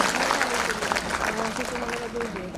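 An audience claps steadily at a Women's Day celebration held by a BJP women's wing in Assam. The applause sits under a speaker's voice addressing the crowd.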